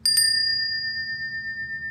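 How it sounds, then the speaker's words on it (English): A Bali bell struck twice in quick succession, bright metallic strikes followed by a long, pure ringing tone that slowly fades with a gentle wavering shimmer, alone in a quiet room. "If you were late, we played the Bali bell."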